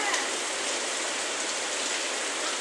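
Floodwater rushing steadily during Typhoon Carina, a dense, constant wash of flowing water with rain-like hiss, close and even throughout with no pauses.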